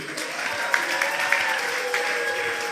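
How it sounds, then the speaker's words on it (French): Audience at a French-language evangelistic church conference applauding and cheering for Jesus, a steady wash of clapping with a few sharp louder claps over it, filling the whole stretch. "Est-ce qu'on peut acclamer Jésus?"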